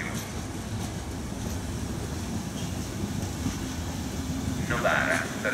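Intercity Notte night train hauled by electric locomotive E.444.040 arriving at Novara station in Italy: a steady low rolling rumble of the approaching train, with a brief higher squeal near the end and faint station voices in the background.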